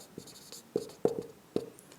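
Chalk or marker writing on a board during a geometry lesson gives a few short, crisp taps and strokes spaced irregularly, close and fairly quiet, with no talking over them.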